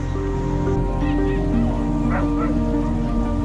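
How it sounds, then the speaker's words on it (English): Several dogs bark and yip continuously in the distance, with whimpers mixed in over a steady background rumble like surf. "All right, Lucy, your buddies are starting to bark."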